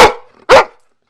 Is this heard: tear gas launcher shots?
no